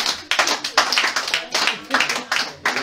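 A church congregation claps in a steady rhythm to acclaim the Lord, sharp, loud, close claps repeating in regular beats with voices talking over them.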